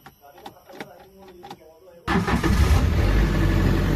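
A Tata Super Ace diesel engine cranks with a few rattling starter pulses, then catches at two seconds and settles into a loud, steady rough idle, heard close up.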